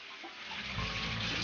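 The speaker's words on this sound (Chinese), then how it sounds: "继续用清水冲洗干净" Tap water running steadily over blanched lamb belly in a kitchen sink, a close broadband rush that starts softly and grows fuller within a second and a half, no voices.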